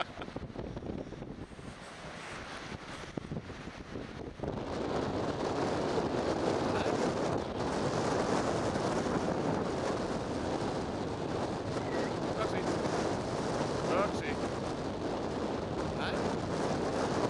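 Wind gusts across a lakeside beach at Loch Sport, rumbling into the microphone as a steady, broad rush that swells after a quieter start and stays strong to the end, with no voices.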